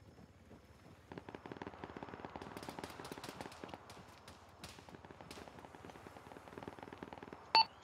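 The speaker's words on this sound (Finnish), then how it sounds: "Sua ammutaan vähän isommal jollain miniganilta tuolta jostain southeast." Distant automatic minigun fire in the military shooter Arma 3 rattles in rapid, continuous bursts, faint and steady with a brief louder blip at the very end.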